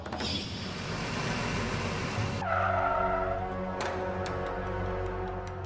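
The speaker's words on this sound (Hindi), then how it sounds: "फिर हमने कार को जंगल में सुनसान जगह पे ले गए।" A car driving into a deserted forest spot and stopping: road rush and engine noise give way to a brief tire scrape, then a lower idle with a few clicks, heard close with no talk.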